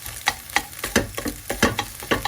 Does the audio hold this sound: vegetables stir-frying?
yes